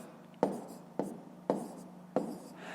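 Four quick, separate taps of pen on paper, each a short sharp stroke, as numbers are written by hand during a long-division problem, close and quiet in a still room with no talking.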